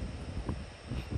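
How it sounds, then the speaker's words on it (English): Strong headwind buffets the microphone on a disc golf course in Burleson, Texas, producing a constant loud low roar and rumble across the whole short stretch, with no talk. "Whipping headwind. I apologize for the noise."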